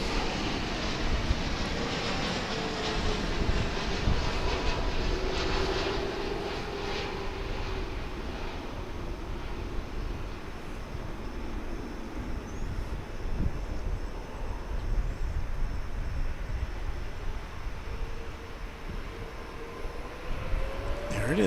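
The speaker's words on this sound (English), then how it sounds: "another one coming in right now which is for passengers, and it's called a Boeing 789, or what we call a dreamliner." A Boeing 787 Dreamliner arriving from Maui lands at a large international airport, its steady broadband jet roar sustained throughout under outdoor wind, with speech faintly present.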